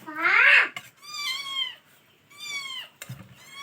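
A cat meows several times in a row, close and fairly loud, with drawn-out rising and falling cries separated by short pauses.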